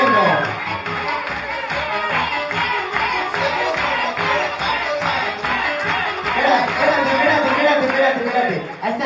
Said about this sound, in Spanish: La gente aplaudiendo